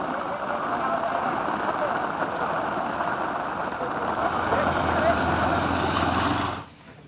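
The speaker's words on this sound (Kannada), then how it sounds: "ಶಿವಮೊಗ್ಗದಲ್ಲಿ ಮುಂದುವರಿದ ಮಳೆಯ ಆರ್ಭಟ." Heavy monsoon rain pours down in Shivamogga as a dense, steady wash of hiss that holds for most of the stretch and then cuts off abruptly near the end.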